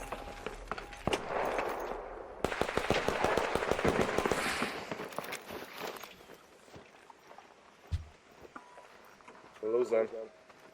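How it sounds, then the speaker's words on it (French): Rapid bursts of gunfire in a video game form a dense crackling volley that fades into scattered single shots and a later short burst. A voice talks over parts of it. "Il y a quelqu'un qui tire."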